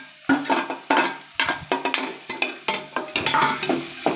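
Onions and tomatoes sauté in a pan, with a sizzle under repeated sharp scraping strokes of a spatula, a quick irregular rhythm heard up close.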